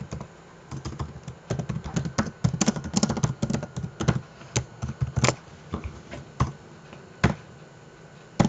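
Keys clacking on a computer keyboard while someone drafts structural foundation plan details, irregular bursts of close, crisp taps with short pauses, no talking.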